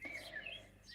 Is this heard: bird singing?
yes